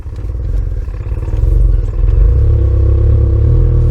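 A 1994 Ford Ranger's four-cylinder engine runs close by, a loud rough rumble that swells and holds as the throttle opens, with some clattering on top.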